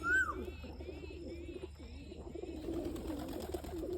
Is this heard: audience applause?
no